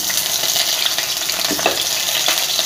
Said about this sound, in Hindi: जब तक इसमें ब्राउनी कोटिंग ना आ जाए मैं इसको फ्राई करूंगी